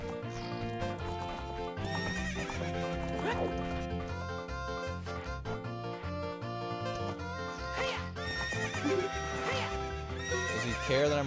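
Epona the horse in The Legend of Zelda: Ocarina of Time whinnies repeatedly over rhythmic clip-clop hoofbeats and game music, the neighs loud and recurring throughout.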